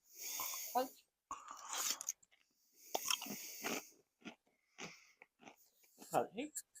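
Crunchy crab-flavoured snacks chewed close to the mic, a series of crisp bites and crunching bursts separated by short pauses, with some talk and breathing mixed in.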